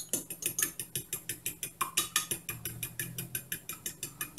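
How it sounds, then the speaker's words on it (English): Milk, eggs and a few drops of Angostura bitters for corn bread being whisked in a bowl: fast, even, rhythmic ticking strokes, about five per second, close and fairly quiet with no talk. "Just whisk this."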